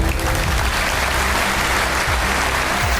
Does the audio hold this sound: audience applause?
yes